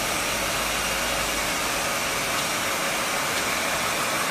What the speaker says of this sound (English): Look how I'm moving the hairdryer.